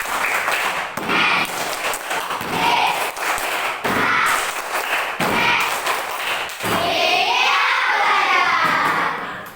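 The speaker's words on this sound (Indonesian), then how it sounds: "Coba tepuk siap belajar." Indonesian primary classroom doing a patterned 'ready to learn' clap: groups of sharp, rhythmic claps in short bursts separated by brief pauses, with children's voices chanting along between them.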